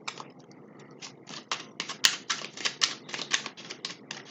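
Rapid, crisp flicking and riffling of tarot cards being shuffled up close, a quick irregular patter of light slaps that grows denser toward the end.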